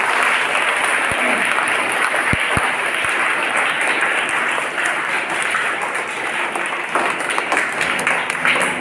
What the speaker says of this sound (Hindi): हमारे सर जी के लिए जोरदार तालियां हैं